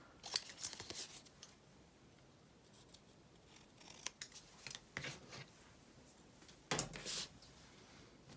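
A few quiet snips of scissors trimming a paper gift tag, scattered crisp cuts with soft handling noise between them, close but faint.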